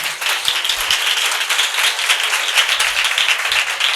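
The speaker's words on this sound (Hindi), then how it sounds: "पहले बहनें जोरदार ताली बजाएंगे" Women in a church congregation clap hard together, a dense continuous patter of many hands that stays loud and close throughout, with no talking over it.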